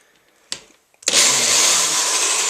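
A handheld power tool chamfers the edge of a plastic guitar pickguard on a black Strat-style build, starting after a couple of small clicks and settling into a loud, steady whirring grind.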